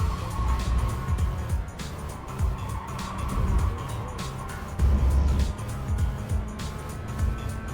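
Race car engine in the iRacing sim racing game, droning steadily with continuous road and tire noise, rising and falling slightly as the car chases another ahead; no talking over it.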